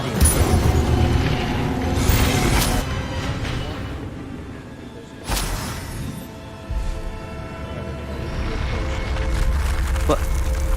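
Spell effects crackle and boom in Hogwarts Legacy as the Incendio fire spell is cast, loud bursts and whooshes separated by lulls, with speech at points.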